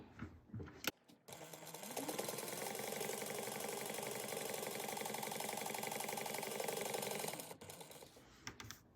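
A sewing machine topstitches a seam in one continuous run of about six seconds, a steady rapid mechanical whir heard close and alone, with brief handling noises before and after.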